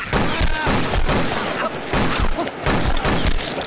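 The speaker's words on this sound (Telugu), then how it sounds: "రేయ్, ఎవర్రా షూట్ చేస్తున్నది?" Rapid bursts of gunfire crackle through a tense Telugu action movie climax, several close, loud shots overlapping in a dense volley with a voice briefly mixed in.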